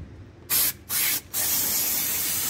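Cleaner is sprayed onto the transmission of a 2004-2015 Nissan Titan pickup in three bursts of loud hissing spray, two short and one longer sustained blast, close to the microphone.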